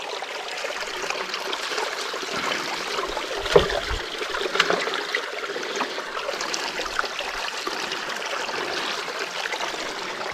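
River water rushes and trickles through a sluice box used for placer gold sampling in a high hill river, making a continuous close-up burbling flow with small splashes and no talk.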